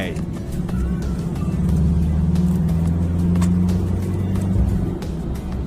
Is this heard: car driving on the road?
yes